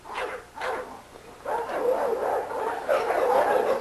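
Close dogs in a kennel yard bark and yip repeatedly, in short bursts early on, then a denser run of yips and whines toward the end.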